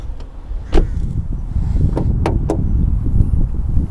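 A few sharp metallic clicks and a clunk ring out close by as the hood latch of a 2011 Volkswagen Touran is released and the hood lifts, over low background rumble.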